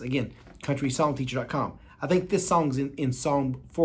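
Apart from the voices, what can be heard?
No everyday noise stands out behind the speech.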